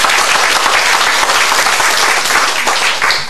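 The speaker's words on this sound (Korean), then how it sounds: "여러분 박수 주십시오" A dinner show audience in Masan gives loud, dense, sustained applause for volunteer group members, a continuous roar of many hands clapping.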